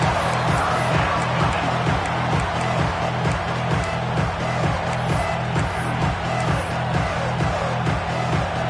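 A stadium crowd in a Madden football video game roars and cheers continuously in the background, a broad steady murmur with rhythmic pulses, with no clear talk over it.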